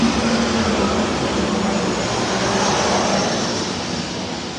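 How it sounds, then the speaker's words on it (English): An airplane passes overhead as a loud, broad, steady roar that fills the scene and eases off slightly toward the end, with no talking over it. "it's an airplane flew by"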